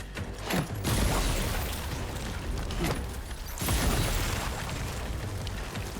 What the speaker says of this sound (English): Bunch of blood grenades.